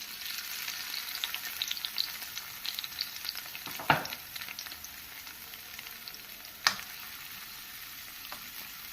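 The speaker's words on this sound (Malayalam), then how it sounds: "ചൂടായ വെളിച്ചെണ്ണയ്ക്ക് ചതച്ച് വെച്ചിട്ട് ഉള്ളിയും വെളുത്തുള്ളി ഇട്ട് കൊടുക്കാം." Crushed onion and garlic fry in hot coconut oil for a Kerala prawn thoran, a steady close sizzle with two sharp clatters of stirring partway through and no voices.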